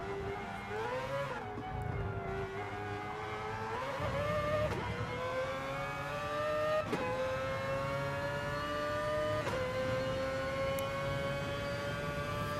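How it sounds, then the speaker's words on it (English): A high-pitched rotary race car engine in a video game screams continuously, climbing through the revs with brief dips at each gear change, loud and close throughout, at Circuit de Spa-Francorchamps. "Listen to this rotary."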